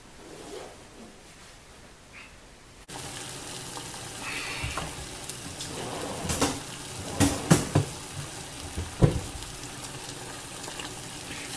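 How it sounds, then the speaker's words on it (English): A pot of water boiling on a stove, a soft bubbling hiss that grows louder after a quiet start, with a few sharp knocks and splashes from handling near the pot. "got a pot of water boiling here in the stove"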